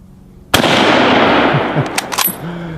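A Mauser K98k 8mm bolt-action rifle fires outdoors at cinder blocks: one sharp, very loud crack with a long rolling echo, followed by a few faint short knocks.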